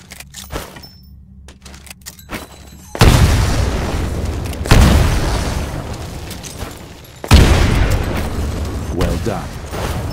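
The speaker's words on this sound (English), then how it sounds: "Throw a grenade into each of the windows." Three grenades explode in Titanfall during pilot training, each a heavy, loud boom with a long rumbling tail, spaced a couple of seconds apart after a quieter stretch of ambient game sound.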